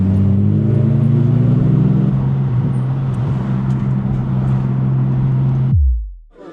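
Toyota Chaser engine idling and rumbling close by at a drift event, its steady low drone holding with slight rises before cutting off abruptly near the end.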